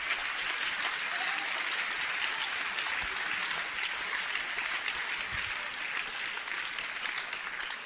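Church congregation at a service in Mampong, Ghana, claps steadily and loudly, dense applause running without pause throughout.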